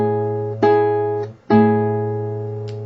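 A major third interval on an instrument: two sustained tonal notes ring together, struck, then struck again about a second later, each decaying slowly and alone without talk.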